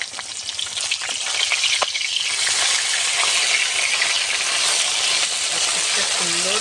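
Fish pieces sizzle steadily in mustard oil in a wok as they are turned over, a close, continuous crackle with a few clinks and scrapes from the flip.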